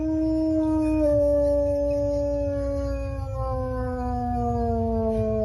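A dog howls in long, wavering tones that rise and fall like a siren, sustained and fairly close, with no talking.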